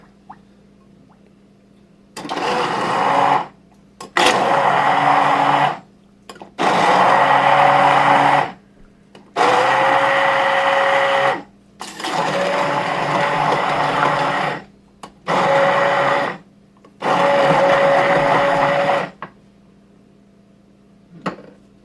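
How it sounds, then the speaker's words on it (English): An immersion blender whirs through cooked cassava in seven loud bursts of a couple of seconds each, separated by short pauses, close up with no talking. "And then an immersion blender."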